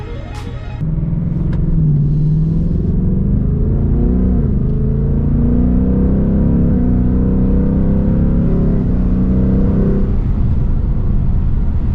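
A 2020 Ford Mustang GT Premium with Performance Pack 1 and exhaust in track mode drives off, its V8 exhaust a loud, deep rumble that swells and eases through gear changes, heard from inside the car.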